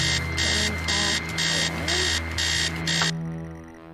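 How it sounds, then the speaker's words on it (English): An alarm in the horror game Stories Untold rings in a loud, harsh electronic pattern of six evenly spaced bursts, then cuts off abruptly, leaving a low hum. "Somehow the alarm stops."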